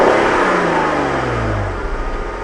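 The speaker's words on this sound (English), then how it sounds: "Love a good revving engine." A 2015 Jeep Cherokee engine revs hard and then winds down in a falling whine over a couple of seconds, loud and close with broad mechanical roar and no speech.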